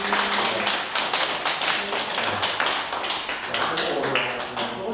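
Audience at a library-week lecture gives a dense round of applause, many hands clapping in a steady, even patter for about five seconds.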